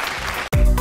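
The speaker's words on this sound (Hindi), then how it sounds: "तालियां जी" An audience applauds at a comedy show. A brief burst of clapping fills the first half and then gives way to music.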